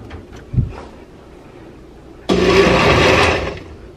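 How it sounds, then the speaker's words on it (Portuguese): A powerful kitchen blender pulsing briefly to chop homemade baby food puree, preceded by a few quiet knocks and a thump, then a loud whirring burst lasting over a second before cutting off. "Agora eu vou bater um pouquinho, só pra dar uma trituradinha, né?"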